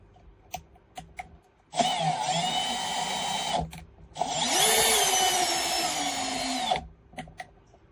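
A dull drill bit on a lathe drill attachment cuts metal with a high-pitched steady whine in two long bursts separated by a brief pause, loud and close, with faint clicks before and after.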